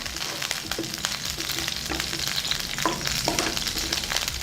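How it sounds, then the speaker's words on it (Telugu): Vegetable pieces frying in a pan until browned, with a close, continuous sizzle and repeated scraping stirs across the whole stretch. "ఇవి కూడా మంచి రంగు వచ్చే వరకు వేయిద్దాం"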